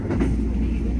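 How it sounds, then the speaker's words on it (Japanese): A train on a Hokkaido railway line in spring snow country, a steady loud rumble of wheels and carriage noise heard from on board, continuous with no break. "さあ列車は銀山駅に到着です。"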